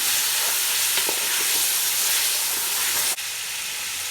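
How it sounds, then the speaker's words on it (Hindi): Chicken fries in spices in a pan, a loud, continuous close sizzle and hiss with faint stirring scrapes, broken by a sudden sharp jump in the sizzle near the end. "चिकन को तकरीबन 5 मिनट तक भूनेंगे।"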